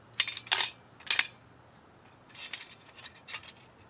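Stainless steel pot holder legs from an Ohuhu wood-burning stove folded in, a few light metallic clinks and clicks close by, then softer rattling taps.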